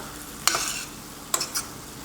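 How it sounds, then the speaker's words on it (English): Cooked vegetables sizzle quietly in a pan under a low steady hiss, broken by two short scraping strokes of stirring. "Stir them very frequently."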